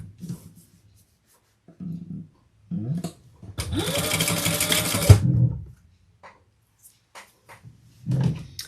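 A home sewing machine stitches a waist pack in one steady whirring run of about a second and a half, framed by quiet handling clicks and soft knocks before and after.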